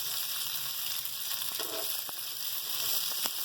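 Almonds and pistachios fry in a pan with a soft, even sizzle, close and steady, broken by a few light stirring scrapes and taps.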